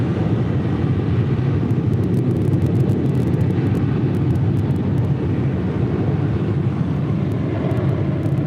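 Steady, dense low roar of a jet airliner, a WestJet flight, taking off from runway 24 left at LAX, heard at a distance as an unbroken rumble with no voices.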